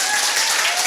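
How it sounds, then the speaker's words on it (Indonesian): Applause from a seminar audience during a professional competency training session, a brief steady wash of clapping from many hands, fairly loud and continuous with no talk over it. "tepuk tangan untuk kita semua"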